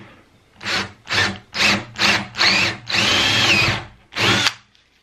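A power drill boring a hole in wood for a cart wheel: seven loud, close bursts of whining, grinding drilling, each under a second except one longer steady run, separated by short pauses.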